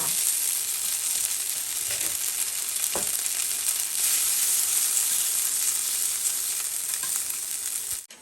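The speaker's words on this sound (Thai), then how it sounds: "ใส่น้ำมันค่ะ ใส่เส้นยากิโซบะนะคะ ลงไปผัดเลยค่ะ" Yakisoba noodles stir-fry in hot oil with a loud, continuous sizzle and a few scraping clatters of a utensil against the pan, ending abruptly.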